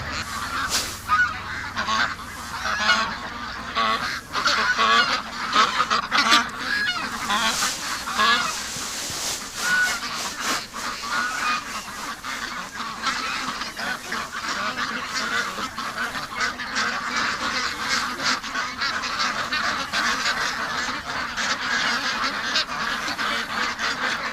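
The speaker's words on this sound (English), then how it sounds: "that's too many ducks coming in at once" A large flock of ducks coming in to feed, honking and quacking loudly and continuously, a dense, overlapping chorus of calls close by.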